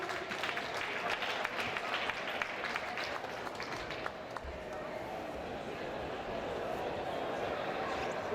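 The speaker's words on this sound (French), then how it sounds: "On l'applaudit chaleureusement." A crowd claps warmly for an 11-year-old girl singer at a Quebec Winter Carnival event, the applause steady and dense throughout with some voices and stray noises mixed in.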